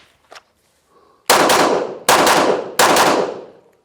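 Three sharp, loud handgun shots ring out at even intervals during concealed-carry shooting training, each followed by a short echoing decay, after a few faint clicks and handling sounds.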